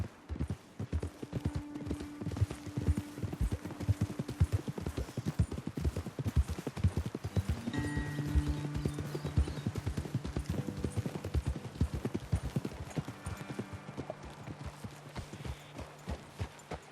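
Steady rhythmic clip-clop of horse hooves walking in the video game Red Dead Redemption 2, close and continuous, with a faint whinny and low background tones throughout.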